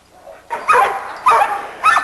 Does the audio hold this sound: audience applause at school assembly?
no